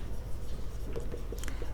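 A pen scratches briefly and softly across paper while a math problem is worked out by hand, a faint dry rasp lasting under two seconds over a quiet room.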